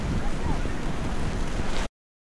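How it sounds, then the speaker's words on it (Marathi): Water of Kalu waterfall plunges from above in fog, a loud, dense, continuous roar close by that cuts off abruptly near the end. "ते अशा पद्धतीनं पडताना दिसतंय, वरून येणारं पाणी"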